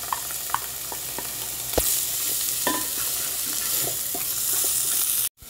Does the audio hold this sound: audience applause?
no